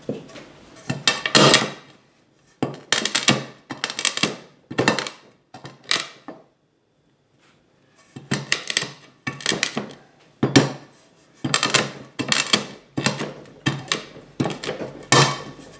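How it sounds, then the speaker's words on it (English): Peppercorns cracked in a pan, a series of sharp, loud crunching knocks in quick bursts, with a short pause in the middle before the strikes resume, close up and with no talk. "let's crack us a bit more of this peppercorns here"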